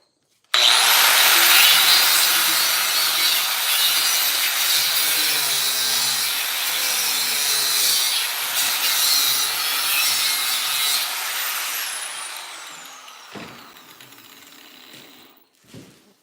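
An angle grinder cuts through forged random-pattern Damascus steel, a loud continuous high-pitched grinding whine that holds for about twelve seconds, then tapers and stops with a few faint knocks.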